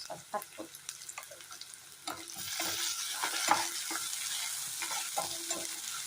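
Spices with turmeric fry in a pan for a cucumber tomato curry, a spoon first scraping and stirring in light knocks, then a steady close sizzle that rises and holds under continued stirring.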